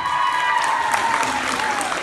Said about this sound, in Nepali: उहाँलाई जोरदार तालीले कङ्ग्रेचुलेसन दिनुहोस्